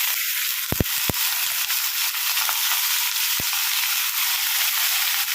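Onions frying in oil for a squid curry give a steady, close sizzle throughout, with a few sharp utensil clicks and stirring knocks near the start and one more a little later.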